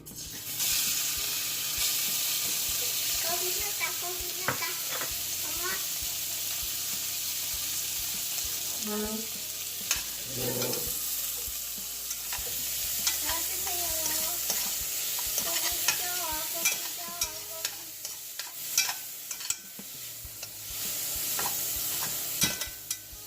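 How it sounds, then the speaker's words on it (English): Brisket frying in sesame oil in a hot pot for seaweed soup, a continuous sizzle broken by stirring scrapes and clinks, with brief splashes of water near the end. "pour a sesame seed oil onto pot. Yep. And you're gonna fry the brisket"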